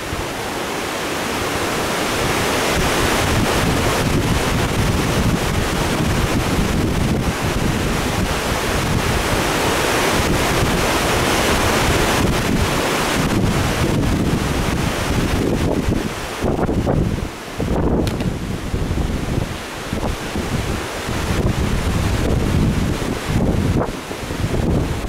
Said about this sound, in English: Super windy, high current.